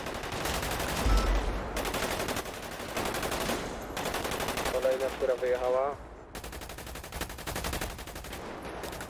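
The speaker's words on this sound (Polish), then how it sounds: "strzały po krzyżu jakieś" Rapid bursts of gunfire in a GTA roleplay police game crackle continuously under a voice, with shots layered densely throughout and a brief tonal alert partway through.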